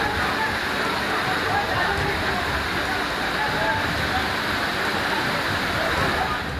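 Floodwater rushes through a street during heavy rain in Kathua, Jammu and Kashmir, a dense, constant roaring wash of water that stays at the same level throughout.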